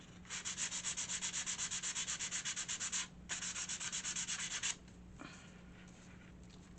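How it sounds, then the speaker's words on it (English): Light hand sanding on a small wooden furniture piece: steady rhythmic back-and-forth strokes, close and fairly loud, with a brief pause, then a second run of strokes before it stops. "I'll do a very light sand in between paint coats as well."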